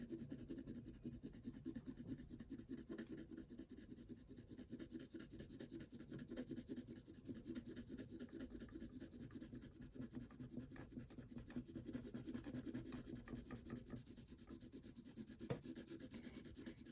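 Colored pencil shading dark shadows on paper for a peacock drawing gives a steady, soft, scratchy rubbing close to the listener. It stays quiet and continuous, with no voices.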